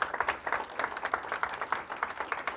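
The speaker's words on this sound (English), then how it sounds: "We give her a round of applause." A small event audience claps in a short, steady round of applause, a dense patter of hands at moderate distance with no talking over it.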